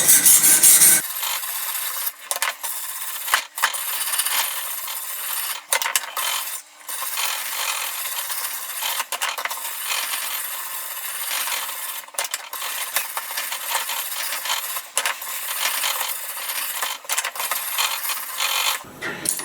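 A knife blade is drawn across a 600-grit sharpening stone on a Ruixin Pro RX009 guided sharpener, giving a close, continuous gritty scraping in repeated strokes, with brief pauses and clicks between passes.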